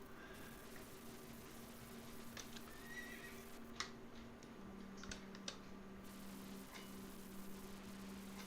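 A horse whinnies in The Quinfall video game over a steady hum of background game ambience, with a few sharp clicks scattered through the clip.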